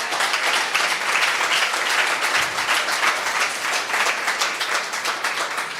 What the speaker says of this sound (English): So ton of applause for those three.